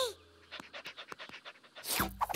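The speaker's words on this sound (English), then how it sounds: "A dog!" A cartoon dog pants in quick, rhythmic breaths, close and fairly loud, alone until a brighter burst of sound near the end.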